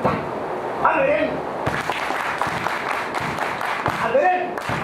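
An audience claps along in rhythm at a live music event, sharp claps in a regular series mixed with chanting voices.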